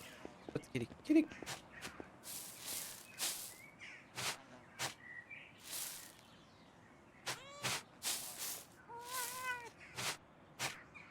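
A cat in the video game Pentiment meows several times, brief and fairly close, with soft footsteps and other quiet game sounds between the calls.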